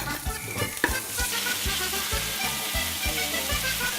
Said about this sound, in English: into the pan to fry it a little bit here